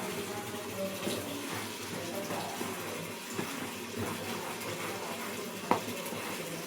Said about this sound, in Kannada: ಜಾಸ್ತಿ ನೀರು ಹಾಕ್ಬಿಡ, ಬಾಗ್ಲೆಲ್ಲ ಕೊಚ್ಚೆ ಆಗ್ಬಿಡುತ್ತೆ.